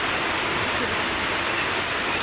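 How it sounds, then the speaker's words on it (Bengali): Steady rain falls outside a window on a humid afternoon, a dense, even hiss with no breaks that carries unchanged from start to finish. "দেখো, প্রতিদিন একই টাইমে বৃষ্টি"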